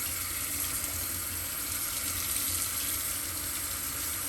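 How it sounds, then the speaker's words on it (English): Cold tap water runs steadily over beans being rinsed in a sink, a constant close hiss of flowing water with no talk. "I use cold water to do this"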